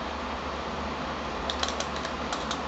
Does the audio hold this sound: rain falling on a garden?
no